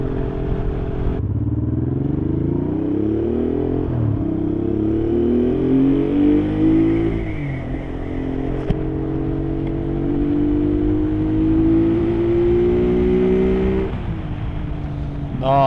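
Honda Bros (Hawk GT) motorcycle engine running steadily while being ridden, a continuous close, loud droning hum with pitch rising and falling through gear changes and throttle, no talking.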